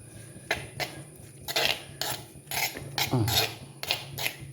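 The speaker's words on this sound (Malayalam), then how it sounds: "ഇനി ഒന്ന് ഇളക്കി മൂടി വയ്ക്കാം" A spoon or spatula stirs bitter gourd and leaf thoran in a metal pan, giving a run of rhythmic scraping and clinking strokes close by, with no talking.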